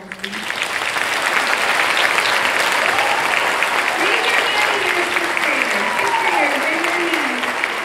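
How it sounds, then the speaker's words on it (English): Parents at a school spring concert applaud the sixth graders, clapping swelling up within the first second and holding loud and steady, with voices talking and calling out over it. "Can we give the sixth graders a round of applause?"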